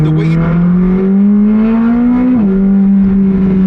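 A McLaren 765LT Spider engine revs loud and close, its pitch climbing steadily before dropping sharply near the end, with no talk over it.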